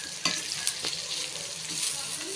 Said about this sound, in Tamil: இப்போ நம்ம என்ன செஞ்சிட்ருக்கோம், கிண்டிகிட்டு இருக்கோம்